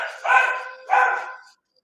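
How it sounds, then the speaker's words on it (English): Two loud, close dog barks in quick succession, each drawn out and slightly howling, followed by silence; no one speaks over them. "Do you hear my dog"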